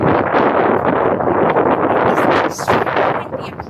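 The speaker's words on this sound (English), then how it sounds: "windy up here." Strong wind buffets the microphone on a hilltop along some trails, a loud continuous roaring rush with gusty surges and a brief lull near the end.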